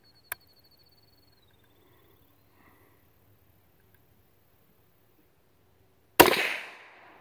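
A single sharp, loud shot from a Ruger American .22 Magnum rifle fired at a target block cracks out near the end after a long quiet stretch, its report trailing off in a brief decaying tail.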